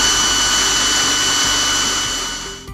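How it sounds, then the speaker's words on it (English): A drill fitted with a 1/2 inch bit bores up through the bottom of a wax pillar candle. The steady whine and grind runs loud and close, then winds down at the end. "This is a 1/2 inch drill bit. I'm coming in from the bottom all the way through."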